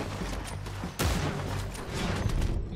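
Gunfire in Red Dead Redemption 2 fills a dense, loud fusillade of overlapping shots with one sharp blast standing out near the middle, alone without talk.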